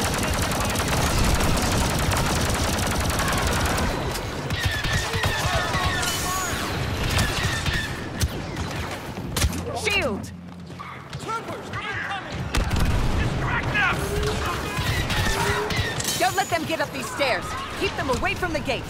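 Blaster fire in a Star Wars Battle of Naboo game set in Theed crackles as loud, rapid, overlapping volleys with booms. It drops briefly midway, then resumes under voices shouting over the battle.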